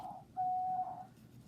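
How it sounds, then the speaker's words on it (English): A single clear whistled bird note, steady and sustained for about half a second, over a low background hum. "Birds are really loud this morning."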